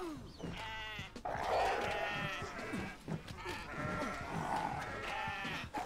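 Goats in the video game Kenshi bleat repeatedly and loudly in overlapping calls, several animals crying out in quick succession amid scuffling combat noise.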